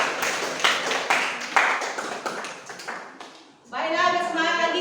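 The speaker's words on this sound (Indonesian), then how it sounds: "Tepuk tangan untuk saya." A classroom of students claps in a short burst of applause after a lesson, the noise spread and uneven with talk mixed in, then a tonal ringing sound takes over near the end.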